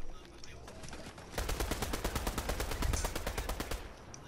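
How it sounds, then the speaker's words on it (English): Machine pistol gunfire in Fortnite: a rapid, steady burst of automatic shots starting about a third of the way in and running for several seconds, loud and close, after a brief stretch of quieter game ambience. "I still have the machine pistol."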